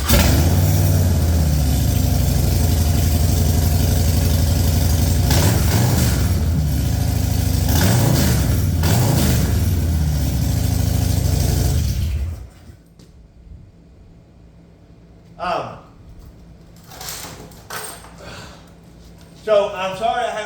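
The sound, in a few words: Harley-Davidson 2024 Road Glide motorcycle engine running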